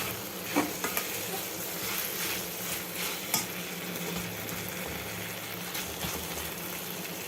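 Raw plantain fry is stirred in a non-stick pan, a soft ongoing sizzle under repeated light scrapes and taps of a spoon against the pan, fairly quiet and close with no speech.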